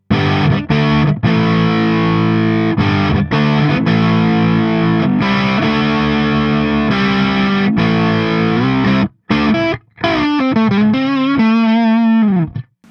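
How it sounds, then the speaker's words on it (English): A distorted electric guitar on the neck pickup of a budget Telecaster-style guitar plays sustained chords and riffs with a warm, thick tone, loud and close, briefly cutting out before a sliding, wavering passage. "Check out that neck pickup. That sounds pretty good on this."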